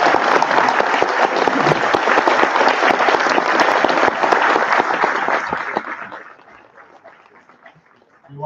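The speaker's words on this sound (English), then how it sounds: "you may now applaud for the" A debate audience gives the candidates loud, dense applause that holds strong for about five seconds, then thins out and fades to near quiet, with a brief bump of sound at the very end.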